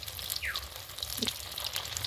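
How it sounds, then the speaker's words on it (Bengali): Bottle gourd (lau) chops frying in hot oil, a continuous soft sizzle with small crackles and pops, close and fairly quiet. "এইভাবে আমি সবগুলো ভেজে নেবো"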